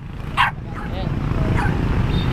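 A small Lhasa Apso dog gives a couple of short, sharp yips and barks over a low rumbling background noise.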